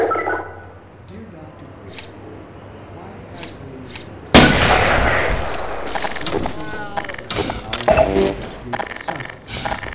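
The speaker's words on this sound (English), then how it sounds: "Maybe you can shoot locks off." Gunfire at a lock in the Half-Life 2 Smod mod: a quiet stretch gives way to one sudden loud blast, followed by a dense, noisy clatter of shots and impacts that lasts to the end.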